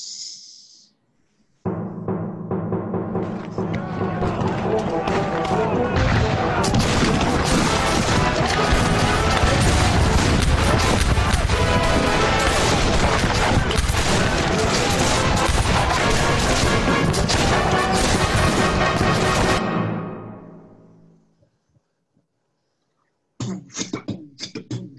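Staged cannon fire in a Marathi stage play sets off a loud, dense roar of crashing booms that runs for about eighteen seconds after a brief lead-in, then cuts to near silence before a few scattered bangs return.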